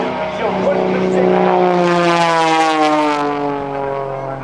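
Patty Wagstaff's aerobatic propeller airplane performs snap rolls at the NAS Oceana airshow. The engine drone is loud and sustained, and its pitch climbs and then falls as the plane passes overhead.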